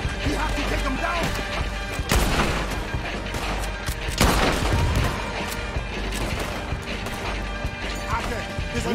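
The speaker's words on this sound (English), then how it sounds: "He's shooting." Gunfire in the Red Dead Redemption 2 video game, sharp loud bursts and crashes over a busy clatter of battle sounds, with voices talking amid the noise.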